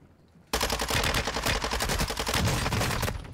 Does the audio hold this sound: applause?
no